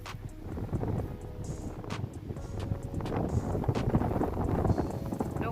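Steady wind gusts beside the Mun River in the countryside, buffeting the microphone with continuous rumbling noise and scattered knocks and rustles throughout, with no talking.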